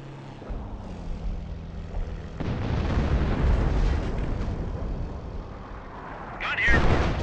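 Artillery barrage in the Company of Heroes video game, Liberation of Caen mission: a dense, sustained rumble of heavy explosions swelling and rolling on for several seconds, with a sharper burst near the end.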